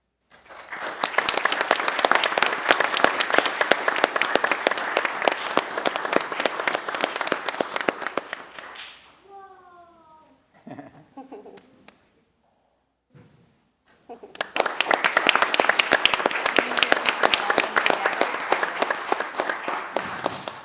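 A crowd at a school board meeting claps loudly for several seconds for honorees, fades out, a brief quiet gap with a few sounds, then another long burst of applause.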